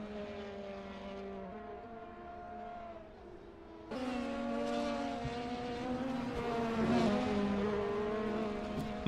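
Toyota TS040 Hybrid race car in a racing video game at Mosport Park, engine drone with steady harmonic tones that shift pitch and grow louder and fuller partway through as the car speeds along the straight, heard alone without talk.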